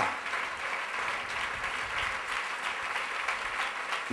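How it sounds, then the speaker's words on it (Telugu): A church congregation claps steadily during a sermon, dense continuous applause at moderate level with no gaps, filling the hall evenly. "చప్పట్లు కొడుతుండగా"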